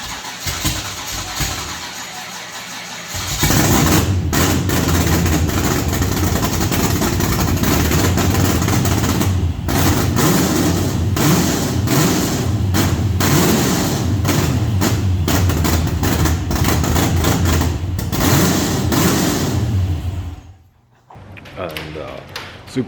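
A drag-spec engine fitted in a notchback drift car fires up on its first start and runs loud and rough for a long stretch, then cuts off abruptly, with voices faintly audible beneath.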